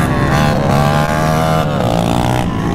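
A sport bike engine revs hard with throttle blips among Chinese pit bikes, a loud continuous high-pitched whine rising and falling close by across the whole stretch.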